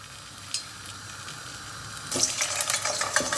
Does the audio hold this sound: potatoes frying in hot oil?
yes